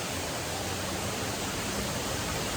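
A waterfall inside a tropical rainforest greenhouse at Ott's Exotic Plants in Pennsylvania gives a loud, steady, broadband rush of falling water that holds unbroken throughout, heard close and with no voices.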